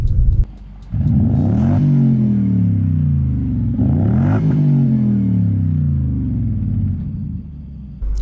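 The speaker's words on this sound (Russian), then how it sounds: "Вот это приятное мурлыканье V8 под капотом." A V8 engine in a Japanese luxury car running while driving, a deep rumbling drone that rises and falls in pitch through two revving pulls and gear changes, heard up close.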